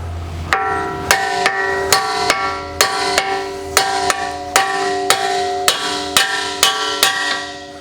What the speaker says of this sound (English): So when you smack it with a second hammer